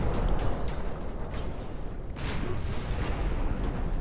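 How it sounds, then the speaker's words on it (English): Big guns on a 1912 US battleship fire in Ultimate Admiral: Dreadnoughts, producing a dense, rumbling wash of naval battle noise with one sharper boom cutting through midway. "We are going to be very reliant on our big guns doing the damage, which they seem to be."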